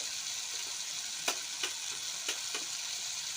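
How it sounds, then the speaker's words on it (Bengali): Egg dal sizzles steadily in a pan as it is stirred with turmeric, cumin and coriander powders, a constant close frying hiss broken by a few sharp spoon scrapes and taps. "এবার আরেকটু নাড়িয়ে চাড়িয়ে নেব"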